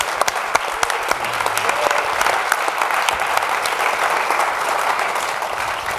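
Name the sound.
applause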